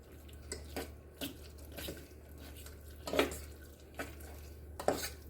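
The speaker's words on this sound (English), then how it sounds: "So now I'm going to my fork. This will help mix it up better" A fork mixes mashed potatoes in a bowl, soft irregular scraping and clinking strokes against the dish, fairly quiet and close.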